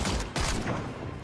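Rapid automatic AK rifle fire in the horror shooter game Sker Ritual, a dense, loud burst of overlapping shots with no pause across the short stretch.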